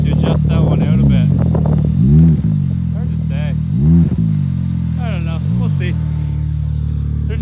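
A Can-Am Maverick X3 side-by-side, rated at 200 HP, idles with a steady low rumble close by while people talk loudly over it.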